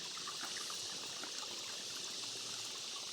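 Faint, continuous trickle of water running down, a soft steady patter and splash heard alone at low level.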